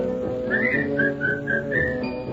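Cheerful melodic whistling of a work-song tune, a run of clear sustained notes and short rising phrases, close and steady over soft musical backing, with no talking.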